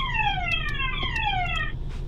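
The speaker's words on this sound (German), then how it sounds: "Fire Alarm." A building's fire alarm blares with a loud electronic tone that repeatedly sweeps downward in pitch, cycling steadily and close by with no talk over it.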